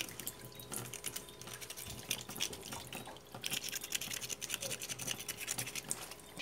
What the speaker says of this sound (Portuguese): Deixa eu fechar essa torneira aqui,